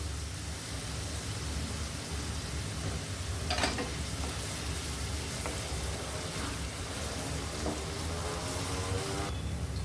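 Onions and curry leaves fry in a pan, giving a steady, even, rain-like sizzle that holds throughout, broken by a few faint clinks.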